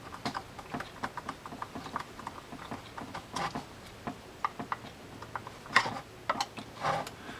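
A Penn Long Beach 65 saltwater fishing reel is cranked after reassembly, giving quiet, irregular mechanical ticks and ratcheting gear clicks up close, with a few sharper metallic clacks and no talk.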